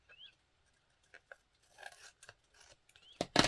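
Scissors snipping through a paper collage strip, a few quiet, sparse cuts close by with near silence between them, ending in a louder sharp snip.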